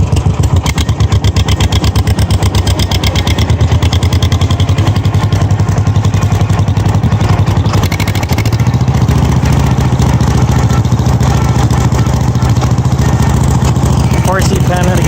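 A two-cylinder engine runs steadily and loudly throughout, with a rapid, even chugging pulse that briefly shifts pitch midway and keeps a dense, close rumble.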